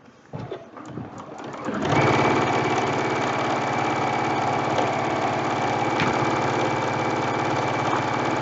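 A sewing machine stitching a fabric medical mask runs steadily at speed after a brief start-up, its motor humming loudly with a rapid mechanical chatter and slight table-shaking vibration.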